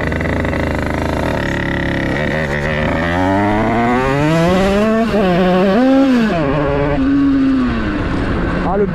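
A motorcycle engine drones loudly at close range while riding, rising and falling in pitch as it revs and changes speed, then settles toward a steady hum, with some wind noise.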